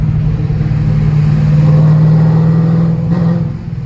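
A car engine drones loud and close as it revs and pulls through a tunnel, a sustained low roar that swells and then eases off near the end, with no talking.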